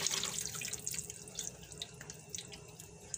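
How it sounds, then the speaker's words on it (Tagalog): Tap water runs steadily into a sink as a threadfin salmon is washed under it, a close, continuous splashing stream with faint drips and no talk. "Hugasan po natin mabuti para yung dugo-dugo natitira."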